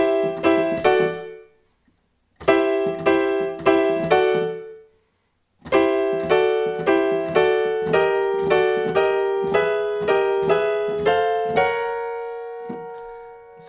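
Slow descending chromatic run on a piano, single notes and chords played one at a time with short pauses between groups, ending on a sustained ringing note; close, clear and alone with no talking.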